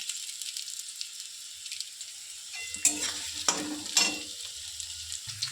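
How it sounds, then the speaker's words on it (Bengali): Cauliflower and potatoes fry in a pan with a quiet, steady sizzle, broken by a few close stirring scrapes and clinks near the end. "আর এখানে হচ্ছে ফুলকপি আলু ভাজা।"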